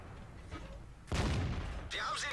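Panther tank firing its main gun in World of Tanks, a single heavy boom with a rumbling low-end tail, followed by a brief whistling shell sound, fairly close and loud over a quiet background.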